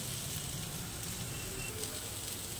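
Snake gourd slices fry in a pan, giving off a steady, soft, even sizzle that stays low and constant throughout with no voices.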